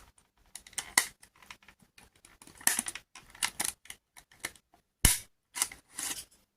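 Scissors cut a notch in paper for a handmade mini album, a close run of crisp snips and rustles in irregular bursts, one sharp snap standing out, with no talking.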